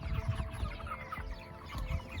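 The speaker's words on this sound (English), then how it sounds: "One week out in the chicken tractors." Meat chickens about five weeks old clucking in chicken tractors outdoors, a busy layered chorus of soft clucks and murmurs from many birds, steady and close.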